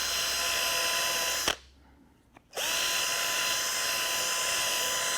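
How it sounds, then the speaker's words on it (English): A high-pitched drill boring into hard walnut wood whines steadily, stops abruptly for about a second, then spins up again and keeps running loud and close. "This what I'm drilling on now is a real hard walnut, really a hard walnut."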